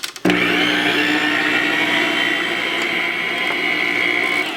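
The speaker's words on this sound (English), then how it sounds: "All I'm going to do now is whisk that around" An electric mixer whisking flour and milk, starting with a click and then a loud, steady high whirring drone that holds evenly for several seconds close by.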